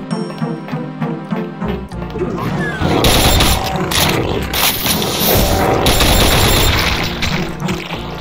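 A nail-firing shotgun's alternate fire in Brutal Doom 2 lets off loud, rapid volleys of harsh metallic blasts, packed closely together in a continuous barrage.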